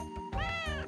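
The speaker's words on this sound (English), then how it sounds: "Sounds like a cat, though." A cat meows in the Wild ARMs PS1 video game, a single loud, close, drawn-out cry with a rising and falling pitch.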